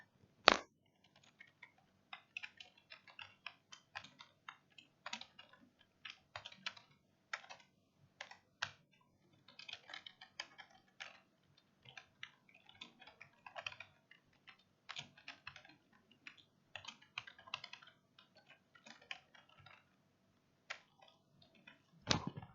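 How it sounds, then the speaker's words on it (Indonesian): Typing on a computer keyboard while a class attendance table is filled in, with quick, uneven bursts of soft close key clicks that are loud and stand alone with no talk. "Bentar Pak Luan ketik dulu ya sampai selesai ya."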